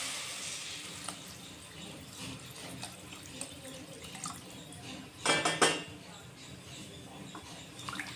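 Water from a tap running and splashing into a metal pot for rice, with clinks of utensils and pot in a home kitchen, a brief louder gush near the middle, fairly quiet overall.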